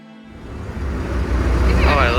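A passenger ferry crosses a river in Bangkok, its low engine rumble and rushing water building steadily from near quiet to a loud, close wash with wind buffeting the microphone.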